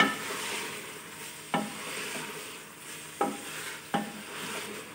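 Meat and black-eyed beans being stirred and roasted in a pan for lobia gosht, a steady sizzle broken by three distinct scraping stirs of the spoon against the pan.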